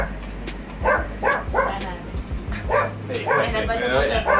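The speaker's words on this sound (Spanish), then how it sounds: "Esa perra está ladrando." A female dog barking and yipping in a run of short, sharp, repeated barks at close range, with a voice talking alongside.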